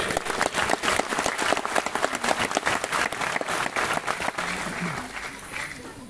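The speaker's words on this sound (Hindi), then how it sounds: "तो एक ताली दो माई लाइफस्टाइल के लिए।" A crowd at a Mi Lifestyle marketing event in Guwahati claps together, a loud run of sharp, closely spaced hand claps that holds steady and gradually eases off.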